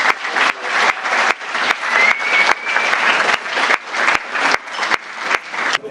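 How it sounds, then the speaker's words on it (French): A seated audience at the final of an eloquence contest claps steadily and loudly for the candidates, dense continuous applause filling the room without speech. "je vous demanderai d'applaudir"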